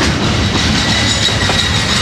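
A Union Pacific freight train passing close by in Gilroy, California, a loud continuous rumble with rhythmic clickety-clack of wheels on rails and no speech.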